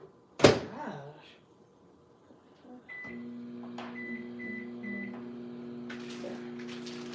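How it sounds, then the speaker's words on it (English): A microwave oven cooks six pieces of bacon: a door thump and clatter come first, then a steady close electrical hum with a few short beeps on top, and no talk. "About 7 minutes in the microwave for 6 pieces of bacon"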